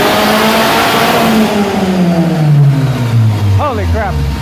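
A 400 WHP SR20DET engine in a Lancer drift car revs hard on a pull, its pitch sweeping steadily down through a sustained loud roar, with a voice speaking near the end.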